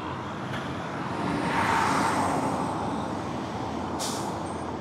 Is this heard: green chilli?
no